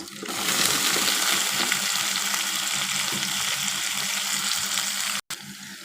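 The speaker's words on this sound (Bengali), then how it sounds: "পেঁয়াজটা যখন আধ ভাজা হয়ে গেছে তখন দিয়ে দিচ্ছি কচুগুলো" Chopped taro, with both stems and corms, drops into a pan of half-fried onions and sets off a loud, continuous sizzle of frying oil that holds steady for several seconds before a brief cut.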